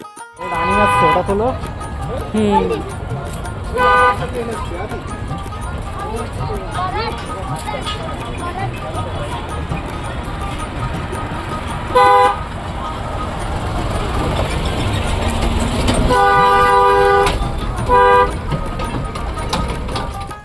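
A toy train's horn toots at Eco Park, sounding a few short blasts and a longer, repeated sequence near the end, over steady crowd chatter and talking nearby.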